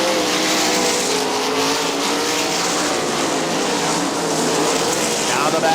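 Sprint cars of the Great Lakes Outlaw Sprint Series at Winston Motor Speedway roar down the front stretch, a loud, continuous high-revving engine drone throughout.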